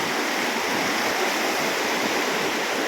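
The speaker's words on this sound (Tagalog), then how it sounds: "Umulan pa guys." Steady dense rain falling near a river in the provinces, a continuous broadband hiss that stays loud and even throughout with no voices over it.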